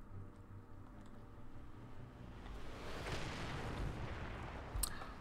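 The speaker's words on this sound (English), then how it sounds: "Grenades." Grenade blasts in the video game Warhammer 40,000: Space Marine come as a broad, rumbling swell of explosive noise that builds through the middle and ends in a sharp burst near the finish. No one speaks over it.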